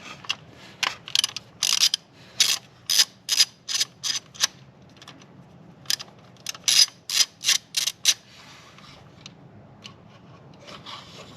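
Ratchet wrench loosening bolts around the shifter assembly of a Hyundai Santa Fe, heard as two close bursts of quick metallic clicks separated by a brief pause, with no one talking.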